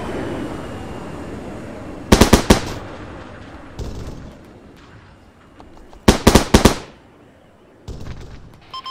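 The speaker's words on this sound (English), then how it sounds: "Where's this firing" Weapons firing in bursts, two loud, rapid automatic volleys close by with a few single cracks between, over low background rumble.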